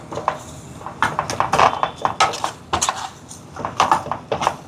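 Fried tomatoes with coriander are stirred in a cooking pot, a spoon knocking and scraping against the metal in quick irregular clinks, close and clear with no talking.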